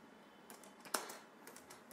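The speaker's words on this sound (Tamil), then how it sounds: "நான் சாம்பிள் டைப் பண்ணிக்கிறேன்" A few soft, scattered keystrokes on a computer keyboard while entering sample text in Microsoft Word, faint and close, with one slightly sharper key press in the middle.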